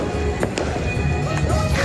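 Christmas fireworks explode in several sharp, cracking bursts, some close together, over a steady background of crowd noise and murmuring voices.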